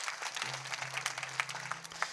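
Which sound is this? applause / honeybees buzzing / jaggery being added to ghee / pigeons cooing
applause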